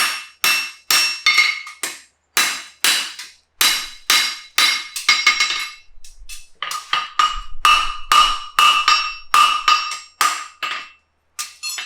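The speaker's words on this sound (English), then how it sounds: "Bit of cold forging now, putting the shine on the shoe." Hammer blows ring out on a horseshoe during cold forging of a hind preventer shoe, a steady run of loud, sharp metallic strikes in quick groups with brief pauses between them.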